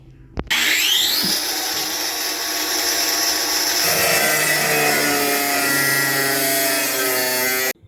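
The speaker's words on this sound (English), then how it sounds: "Now I'll quickly chisel this stuff away." A Nissan NV400 van body is worked with a powered scraping tool to remove old sealant, giving a loud, continuous high whine and grinding that shifts pitch midway and stops abruptly after about seven seconds.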